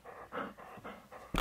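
A pet dog pants rhythmically and close by, four or five quick breathy bursts in a quiet room, ending with a sudden louder rustle or thump.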